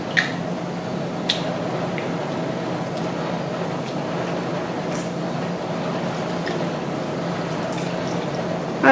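Groceries being washed in filtered water produce close sloshing and dripping, with occasional sharp splashes and clinks over a continuous low rumble.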